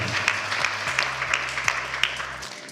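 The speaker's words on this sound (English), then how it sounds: "Let's clap for him if he is not here." Audience clapping in a steady, fairly sparse rhythm over a low hum, fading out at the end.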